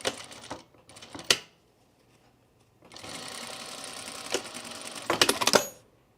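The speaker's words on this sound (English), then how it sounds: "So I'm just gonna sew right along the zipper here." A sewing machine stitches along a trouser zipper in quick close bursts of rapid mechanical chatter, two short runs, a pause, then a longer steady run.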